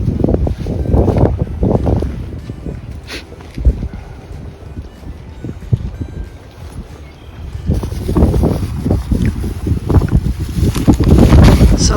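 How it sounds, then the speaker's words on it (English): Strong gusty wind buffeting the microphone on an island in a lake at Huron, South Dakota, loud rumbling blasts that rise and fall, easing in the middle and returning harder toward the end. "Only today it's too windy."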